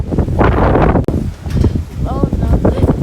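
Strong wind blows outdoors during puff pastry making, roaring and buffeting against the microphone in rough bursts while a person talks over it.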